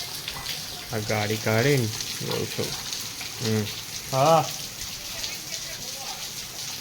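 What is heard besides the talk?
rain falling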